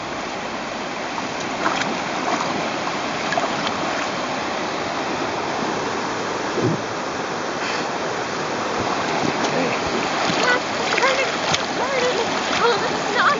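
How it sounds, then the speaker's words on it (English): Whitewater rapids on the Ott river, heard while tubing, roar as a loud, continuous rushing splash with surging bursts of churning water throughout. "That's quite a rapid down there."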